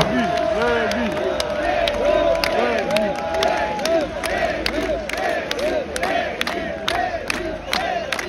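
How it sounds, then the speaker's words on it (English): Big outdoor metal festival crowd cheering and chanting in unison, rhythmic shouted calls rising and falling over scattered clapping, loud and continuous. "thanks for cheering for us"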